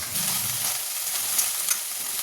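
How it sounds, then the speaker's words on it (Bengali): Prawns fry in hot oil in a pan with a steady, bright hiss and crackle throughout, close and even, with no one talking. "আগে চিংড়ি মাছগুলোকে ভেজে নিই, ভেজে নিয়ে তারপরে বড়া করবো"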